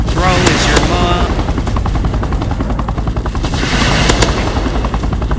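A cargo helicopter's rotor chop thrums loudly in a chaotic online base-battle video game, with rapid bursts of gunfire crackling over it throughout.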